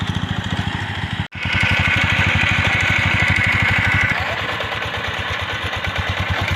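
A farm tractor engine idles close by in a rice field, in a steady, fast chugging rhythm, with a brief cutout early on before it resumes running.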